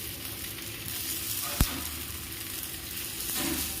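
Paniyaram frying in a pan, giving a steady, even sizzle throughout. One sharp click cuts through it as a piece is turned with a stick.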